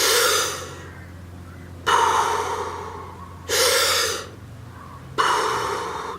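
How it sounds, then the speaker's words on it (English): Three deep, forceful inhales in Wim Hof method breathing, each a loud rushing intake of air filling the lungs, followed by quieter exhales in a steady repeating rhythm, close to the microphone with no talking. "I'm filling my lungs with air"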